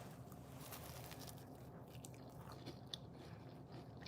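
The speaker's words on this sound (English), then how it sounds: "Y'all hear that crunch?" Crunching bite into a homemade biscuit with a crisp bottom and fluffy inside, a close, continuous crisp chewing texture over a low steady background.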